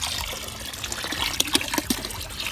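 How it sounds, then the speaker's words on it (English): Warm water is stirred over crystals in a container, with soft trickling and gentle splashes and a few clinks close by, quiet and intermittent. "So we'll kind of stir it up with a little more water here."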